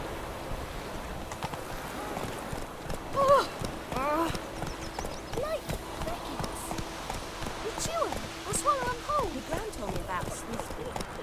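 Roach, a horse in The Witcher 3, galloping with a steady run of hoof clip-clops and a brief whinny, heard under continuous male and female dialogue throughout.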